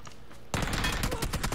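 Rapid bursts of gunfire from a first-person shooter match, loud and dense, erupting abruptly after a quieter stretch and continuing as a fusillade with no talk over it.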